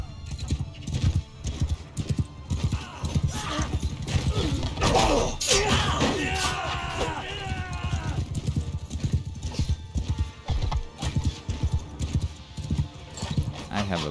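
Horses gallop in a rapid, drumming rhythm of hoofbeats during a battle in Mount & Blade II: Bannerlord, with a whinny and clashing combat noise mixed in while someone talks over it.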